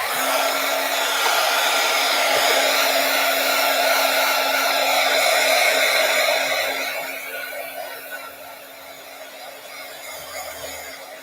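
A hair dryer runs continuously with a steady whirring roar and a constant motor hum, loud for most of the stretch before dropping to a lower setting toward the end.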